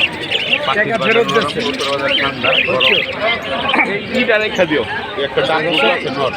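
Birds chirp and tweet continuously at a busy bird and pigeon market, mixed into dense crowd chatter and nearby voices talking throughout.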